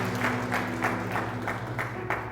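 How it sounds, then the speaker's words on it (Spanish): A church congregation at a Palm Sunday Holy Week service applauds in a hall, a sustained clapping roar with regular surges roughly twice a second over a steady low hum from amplification. "¿Cuántos aplauden a Cristo?"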